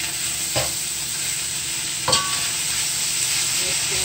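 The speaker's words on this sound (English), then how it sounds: "So now I'm going to add my ground turkey in there." Ground turkey frying in a hot pan, a steady sizzle broken by two brief stirring scrapes, close and alone with no talk.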